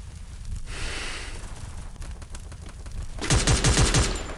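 Bursts of rapid automatic gunfire from a Free Fire mobile battle royale match, with a steady background bed and a louder, denser volley of shots near the end.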